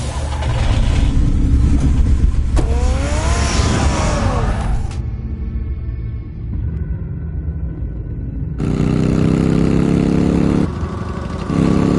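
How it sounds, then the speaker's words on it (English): A car engine in a Batman video game rumbles loudly and continuously, with a rising revving whine partway through and shifts in the engine texture as scenes change, heavy and close throughout. "Get the car ready, Alfred"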